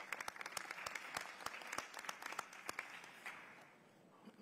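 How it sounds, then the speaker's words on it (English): Applause from attendees at a United Nations Habitat Assembly session, scattered sharp individual claps over a softer background of clapping, fairly faint and thinning out toward the end. "A round of applause to you all for coming as well."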